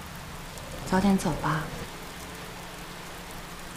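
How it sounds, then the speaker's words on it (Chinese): Steady rain falls throughout as a soft, even hiss, while a voice speaks briefly in the middle. "下雨了"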